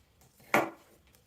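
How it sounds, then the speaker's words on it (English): A single crisp chop of food with an adaptive chopping tool, one sharp close knock on a board in an otherwise quiet room. "Just chopping in pieces from here all the way down."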